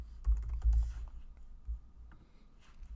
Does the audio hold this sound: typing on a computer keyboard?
yes